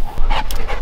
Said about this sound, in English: What is up with these dogs?